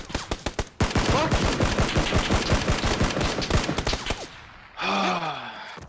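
Rapid bursts of automatic gunfire in a video game, dense repeated shots in a steady rhythm, loud and close, followed by a brief pause and a final tonal game sound.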